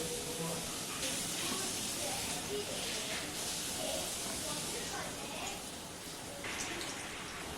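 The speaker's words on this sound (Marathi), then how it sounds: "आता आपण ह्या मिरची तळून घेऊया" Green chillies for mirchi bhaji frying in hot oil give a dense, continuous hiss and bubbling sizzle that stays steady throughout, close up, with a faint voice talking underneath.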